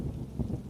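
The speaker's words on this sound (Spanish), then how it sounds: "Hasta que escuché un estruendo a lo lejos. Eran truenos." Low, rolling rumble of distant thunder as a storm approaches, a steady deep murmur with slight swells, no voices.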